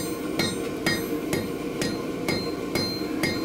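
Blacksmith striking glowing yellow-orange hot metal at the forge with small, light hammer blows to smooth the surface: seven sharp ringing strikes about half a second apart, close and clear over a steady background roar of the forge.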